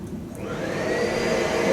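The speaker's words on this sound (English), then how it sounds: "That's just a vacuum cleaner next in the room next to us." A vacuum cleaner runs steadily in the next room, a continuous muffled whine and roar that holds level and swells slightly louder toward the end.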